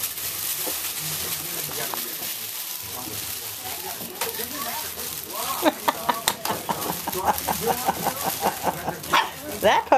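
Briard puppies at evening play bark and yip in short bursts, sparse at first and then quickening into a busy cluster near the end, with people talking in the room.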